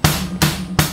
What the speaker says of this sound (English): start matching your hi-hat hits with your bass